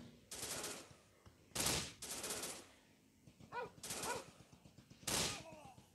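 Gunfire rings out in the mobile shooter Real Commando Shooting 3D, in several bursts of rapid, close shots separated by short gaps, fairly quiet overall.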